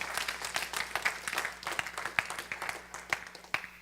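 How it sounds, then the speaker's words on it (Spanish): A small audience at a church gathering applauds a pair of performers, giving distinct, fairly sparse individual claps in an uneven rhythm, moderately close and fairly quiet, with a low hum underneath. "Vamos a darles un aplauso porque ellos ejemplificaron muy bien."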